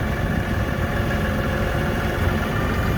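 An LS XR4145 tractor's engine idles in a steady, loud, continuous mechanical drone with an even rumble and no change in pace.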